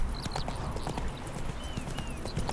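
Horse hooves clip-clopping at a steady gait while riding toward the Nilfgaardian garrison in The Witcher 3, a continuous rhythmic patter of hoofbeats at moderate level under ambient game sound.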